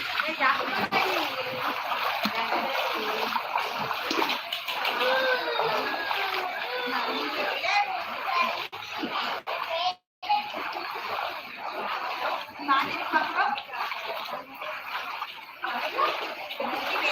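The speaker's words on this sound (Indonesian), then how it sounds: "Ini air sungai mulai meluap." Overflowing river water during a flood in Cabbenge, Soppeng, rushes and splashes steadily and close by, with voices talking over it.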